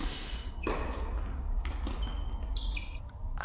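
A tennis player's shin takes a hit during a club championship match in Paris: a couple of dull, close thuds over steady court ambience, with faint high electronic beeps near the end.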